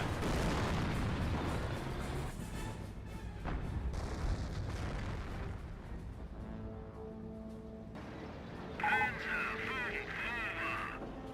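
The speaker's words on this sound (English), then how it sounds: "Oh, artillery raining back here." Artillery bombardment in the strategy game Company of Heroes, a steady barrage of rumbling booms and blasts over a droning, engine-like battle din, dense and continuous.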